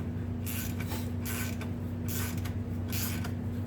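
A ratchet works on stiff 14 mm bolts on a Kawasaki Bayou axle, producing four evenly spaced bursts of clicking over a steady low mechanical hum, close up and with no talking.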